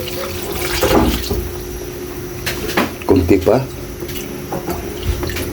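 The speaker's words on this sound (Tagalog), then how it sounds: "Siyempre, maglalagay din tayo ng tubig" Water splashes in short pours into a cooking pot while pork paksiw is prepared, in a few bursts with a person talking over it.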